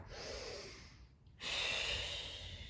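Breathing during a Pilates stretch: a soft breath, a short pause, then a longer, breathy exhale, close and quiet.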